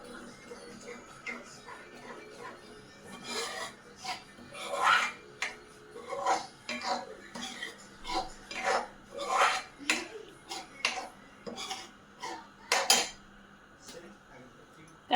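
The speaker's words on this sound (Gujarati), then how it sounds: "દૂધની મલાઈ એડ કરવાની છે અંદર બધું મિક્સ કરી દેવાનું છે" A spoon stirs cream into a cashew khoya curry in a metal pan, giving repeated soft scraping strokes and light clinks in an irregular rhythm, fairly close and moderate in volume.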